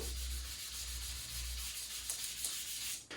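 Steady, rough abrasive rubbing of sanding against a Foxbody quarter window glass, continuous and fairly close, with a brief pause near the end.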